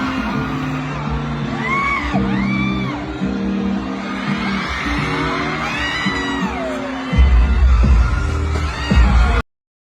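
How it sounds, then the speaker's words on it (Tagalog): Fans scream and cheer at a mall show at SM Masinag in Antipolo, Rizal, with rising whoops and shrieks over loud stage music and a crowd roar that swells near the end. "Grabe ang hiyawan ng netizens nang paakyat na si Paulo sa stage."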